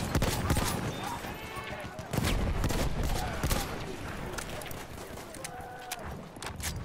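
Battlefield 1 machine gun fire in the 'They Shall Not Pass' DLC: repeated bursts and scattered shots crackle throughout, fairly loud and dense, with faint voices mixed into the battle noise.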